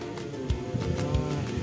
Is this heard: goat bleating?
yes